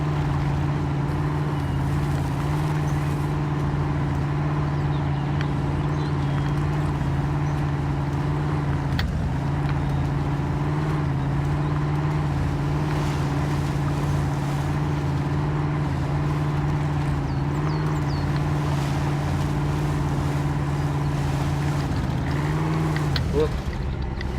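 A truck in the game Spintires MudRunner sits stuck with its wheels spinning in mud, a loud, constant engine drone with a steady low hum that barely changes for the whole stretch, with no traction or movement.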